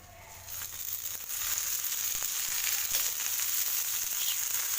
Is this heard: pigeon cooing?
no